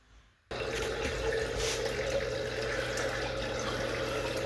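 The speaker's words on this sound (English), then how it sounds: "we got the pump running, everything's circulating." A hydroponic system's pump running and circulating nutrient water, heard as a steady near trickle and splash of flowing water over a low constant hum, beginning abruptly after a brief quiet moment.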